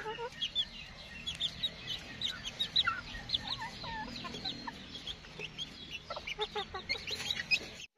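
Japanese Chabo bantam chickens cluck and chirp steadily in a dense, lively chorus of short calls, fairly close and continuous with no talking.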